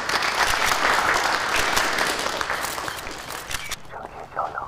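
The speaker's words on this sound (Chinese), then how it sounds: "掌声欢迎。" A studio audience applauds to welcome an investor onto a stage for the drama's launch, loud massed clapping that fades in the last second as a voice starts to speak.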